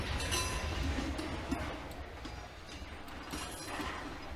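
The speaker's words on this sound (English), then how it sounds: "I just don't feel like talking over these train engines here" Video game train engines from Bounty Train rumble on the rails with a steady low roar, light metallic clinks and occasional faint squeals, no one speaking.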